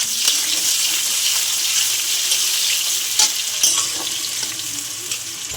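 Chopped onion frying in hot oil with dried red chilli, cardamom, cinnamon and whole cumin, producing a loud, dense, continuous close sizzle with a few brief stirring knocks and no speech.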